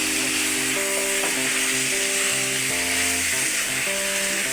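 Chicken fries in a pan at home with a constant, close sizzle, while a steady mechanical hum with shifting tones runs underneath.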